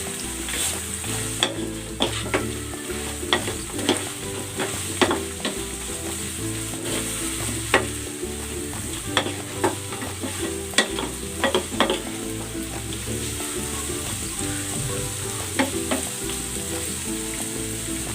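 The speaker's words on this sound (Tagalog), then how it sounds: "At ilalagay ko na dito yung prinito nating tilapia." Fried tilapia is stir-fried in a pan with a constant sizzle, and a spatula scrapes and taps repeatedly throughout at close range.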